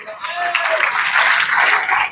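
An audience claps together in a dense wash of applause that swells and holds steady for about two seconds, loud and close, with voices mixed underneath.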